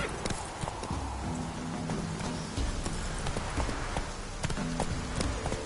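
Horse hooves clip-clopping at a steady gallop in The Witcher 3, the steed Roach running continuously with a rhythmic, fairly close beat over ambient game sound and occasional low tones.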